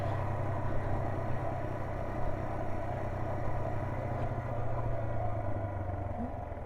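Steady low drone of a Yamaha TW200 motorcycle engine with wind rush while riding on a bumpy road, recorded close by on an action camera, continuous and unbroken with no voice present.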